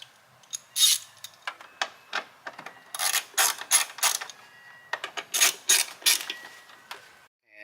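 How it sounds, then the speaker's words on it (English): A ratchet tightening the two bolts that hold a new tail light on a car, a series of quick clicking bursts in short rhythmic runs, close and clear with no talk. "secure it with the 2 bolts"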